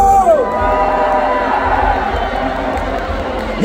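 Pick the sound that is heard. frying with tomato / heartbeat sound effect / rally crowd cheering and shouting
rally crowd cheering and shouting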